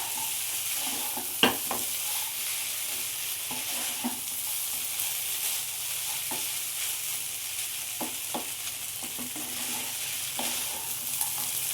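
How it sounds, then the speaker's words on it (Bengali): Poha and roasted peanuts are stirred and fried in a pan, giving a soft continuous sizzle with scattered scrapes and taps from the spatula, one louder knock early on. "আবারও বাদামটা দিয়ে আমি 2-1 মিনিটের মতো পোহাটা ভালো করে নাড়াচাড়া করে নেব।"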